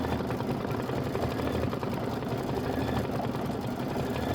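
A Kimberbell embroidery machine stitches around the stem of a chenille pineapple, a steady close motor whir with fast even needle chatter running the whole time, no voices.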